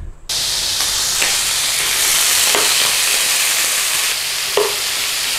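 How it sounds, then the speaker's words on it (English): Bacon frying in oil in a pan crackles in a loud, continuous hiss with occasional spatters and scrapes, close up and with no talking. "we're actually cooking up the bacon and we're drawing out that bacon fat"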